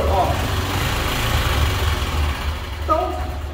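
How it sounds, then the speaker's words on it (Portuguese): A performance camshaft engine idling with its exhaust muffled gives a steady, close low rumble with a slight lope throughout, and a voice briefly speaks near the end. "vocês estão escutando o barulho do comando"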